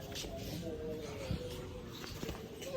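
Pigeons in a backyard loft holding newly paired breeding birds give soft, low murmuring coos that run steadily through the clip against a faint background hum.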